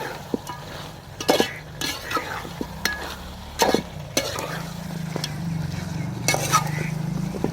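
Country chicken curry sizzles in a pan while a utensil scrapes and stirs it in irregular bursts, close up and moderately loud.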